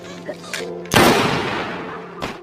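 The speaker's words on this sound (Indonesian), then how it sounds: "Suara tembakan Yobin membuat zombie-zombie berlarian mendatangi sumber suara yang mereka buat" A single loud gunshot from the zombie film Alive cracks sharply and decays into a long noisy tail, preceded by low murmuring voices and followed by a brief thud.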